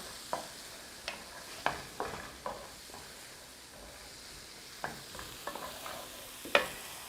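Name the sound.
mixing thyme into crab cake mixture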